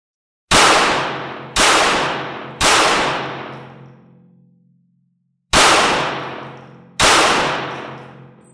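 Handgun shots fired at a range target during a beginner shooting class: five loud, sharp reports with long ringing decays, three in quick succession, a pause, then two more.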